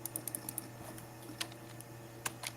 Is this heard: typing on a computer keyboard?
yes